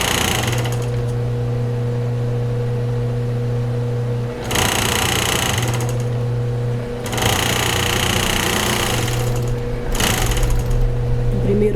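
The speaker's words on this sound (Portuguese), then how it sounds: "Vou unir a costura da pence." Sewing machine stitching the dart seam of a padded plus-size bra cup, running in steady bursts with short pauses between runs, close and fairly loud with a constant low motor hum underneath.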